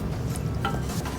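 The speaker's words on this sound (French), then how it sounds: "Donc quand c'est bien sué, on déglace avec un tout petit peu de vin blanc" Hot pan with sweated garlic hissing and sizzling steadily as a small splash of white wine deglazes it, with light stirring clinks on top, close and continuous without talk.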